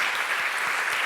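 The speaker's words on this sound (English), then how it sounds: "this is the moment for a welcome applause" Brief welcome applause from an audience at a photography festival event, a short steady burst of clapping.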